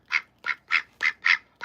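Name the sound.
pet duck quacking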